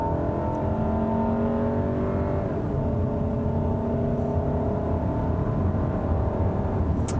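A 2018 Volkswagen Tiguan with a 2-liter turbocharged EA888 four-cylinder and 8-speed automatic is floored from inside the cabin, its engine droning steadily upward in pitch with a gearshift partway through, loud and continuous with no talk.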